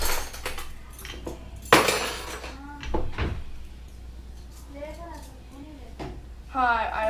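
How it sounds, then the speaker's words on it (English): Metal spoon scraping butter out of a whisk in a home kitchen: a few sharp clinks and scrapes in bursts, with a person talking in between. "Just gotta get out the butter from the whisk"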